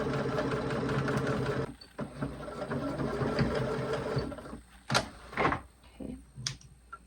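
A sewing machine hums steadily and close while stitching the lining seams of a romper, then stops, leaving a few short clicks and handling noises.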